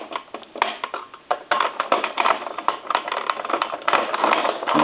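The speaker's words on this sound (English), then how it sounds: "So I'm just going to try to put a couple of screws in here." Screws being driven into a Coca-Cola animated polar bear novelty telephone during repair give a continuous, close run of rapid ratcheting clicks and small mechanical rattles.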